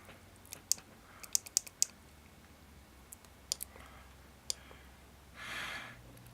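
Button clicks on a Teslacigs XT vape mod, heard as sharp, close clicks in quick bursts with pauses between them, followed by a brief soft hiss near the end and no talk.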